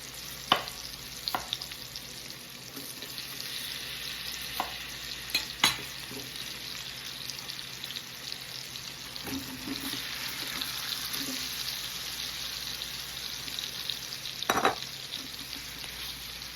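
Butter, about three quarters of a stick, melting in a pan with a soft, steady sizzle for fried apples, with occasional clinks and knocks of kitchen utensils over the low frying hiss.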